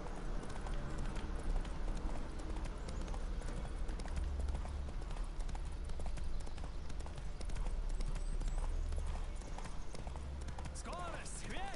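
Continuous galloping hoofbeats of a horse in The Witcher 3: Wild Hunt, a fast steady clip-clop, with people talking over them.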